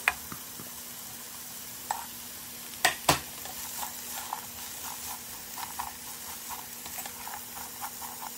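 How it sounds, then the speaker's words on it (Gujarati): Vegetables for Chinese fried rice sizzle in a hot pan as a utensil scrapes and clanks against it, with a few sharp knocks and soft crackling throughout. "તમે સ્ટર ફ્રાય કરો લગભગ 1 મિનિટ માટે"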